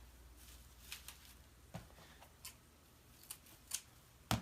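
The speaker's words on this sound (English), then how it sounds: "So I'm just going to cut off any extra on the bottom." Scissors snipping the stems of silk flowers for a summer flower basket: several sharp, crisp cuts spaced irregularly, the last one loudest, close and quiet with no talking.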